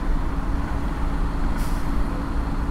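Heavy midday road traffic with trucks and buses in Natal, Brazil: a loud, continuous rumble of engines close by with a brief hiss of air brakes, no speech.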